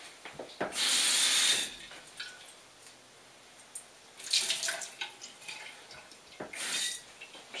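Tap water runs into a commercial glass coffee decanter pot being wetted for cleaning. Three separate bursts of hissing, splashing flow come close by, with quiet pauses and faint drips between them.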